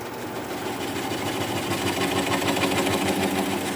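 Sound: wood lathe spinning weeping birch at about 400 RPM

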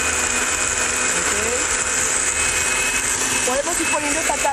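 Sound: fast blender running while making mole

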